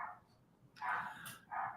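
A dog gives two short, faint barks a moment apart in a quiet home, the second following closely after the first, with no other sound around them.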